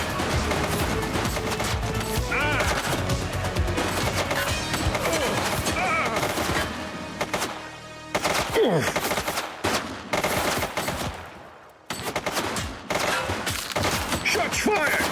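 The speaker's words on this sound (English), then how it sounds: "Shots fired!" Heavy automatic gunfire rattles almost nonstop in the police video game The Precinct, loud and close, with short pauses after the midpoint before bursts resume.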